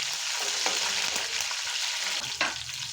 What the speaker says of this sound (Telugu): తర్వాత కరివేపాకు, ఇవన్నీ ఆయిల్లో మంచిగా ఫ్రై చేసుకోవాలి.